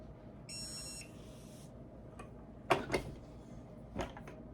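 A timer on an xTool Smart heat press beeps in a short burst of bright tones near the start, followed by a few sharp clicks and taps from handling the press; no one speaks.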